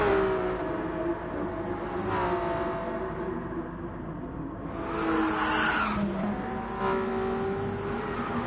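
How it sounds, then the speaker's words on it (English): Race car in a Porsche Supercup racing game, damaged and warming its tyres, skids and slides into a wall at Saint Croix, with a steady engine drone, rising tyre squeal and scraping across the span. "Will just warming up the tyres with his broken car and has gone into the wall"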